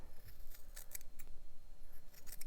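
Small scissors snip the loose ends of a small yarn pom pom in quick, light, close-up cuts, with several crisp snips spread across a few seconds and no one talking.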